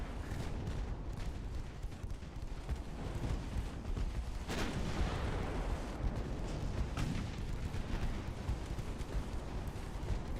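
Battleships fire their big guns in a naval war video game, a dense roar of heavy booms and rumbling blasts that rolls on without a break, loud and continuous, with no talk.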